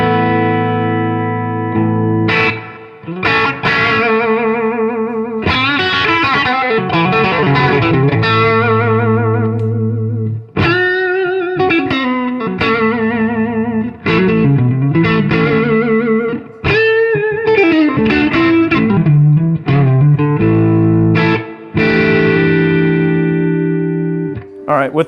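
An electric guitar strums airy chords through a 1968 Fender Super Reverb amp with no effects, ringing clean sustained chords with short pauses between strums.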